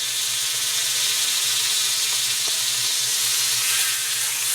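A beef roast searing in a hot pan gives off a loud, steady, close sizzle and hiss that continues without a break, with no voices.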